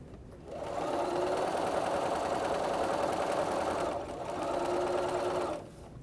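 A sewing machine stitches the last seam of a quilt block, running in a steady, close mechanical whir for several seconds, pausing briefly, then running again before stopping.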